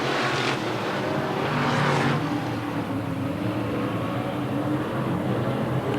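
NASCAR Winston Late Model race cars at Raven Raceway, 1987, roar past in a tight pack at the green flag, a dense, loud, continuous engine drone with a couple of swelling pass-bys.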